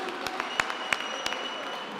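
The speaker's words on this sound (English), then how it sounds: "Let's give another round of applause to our performers today." Applause for performers at a graduation ceremony in Qwaqwa: scattered, fairly sparse claps from an audience, with a few sharper individual hand claps standing out over a soft crowd background.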